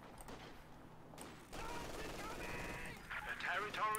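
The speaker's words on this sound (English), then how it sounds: "Rifle grenade going off." A rifle grenade goes off amid an infantry fight in Company of Heroes 2, with bursts of gunfire and a sharp blast rising over a quieter stretch, mixed with game effects and a voice under the combat.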